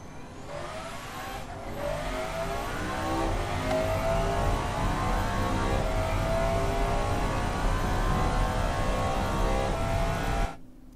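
A V12 twin-turbo 2006 hypercar engine in a simulation game, revving hard and pulling steadily through a long acceleration at constant loud volume, cutting off abruptly near the end.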